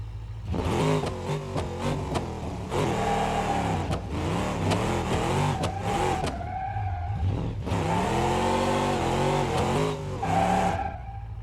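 In the game BeamNG Drive, a Gavril D-Series truck's engine revs repeatedly in rising and falling surges, with tyre noise mixed in and a moderate, steady level.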